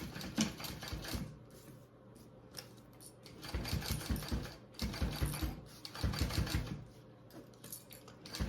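A domestic sewing machine stitches through thick waterproof canvas, rapid mechanical clatter in several bursts with short pauses between runs, close and fairly loud.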